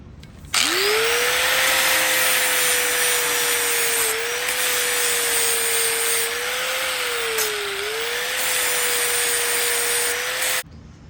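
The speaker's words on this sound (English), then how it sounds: "I'm gonna go ahead and descale it real quick." A power tool descales a piece of steel strap meant for a fender bracket, giving one loud, continuous whining grind with a steady pitch that wavers slightly under load, close and without talk, ending abruptly.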